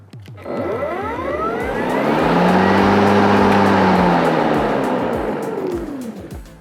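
A petrol lawn mower engine runs after its blade has been sharpened and balanced, a loud continuous drone that swells and eases over several seconds with no talking.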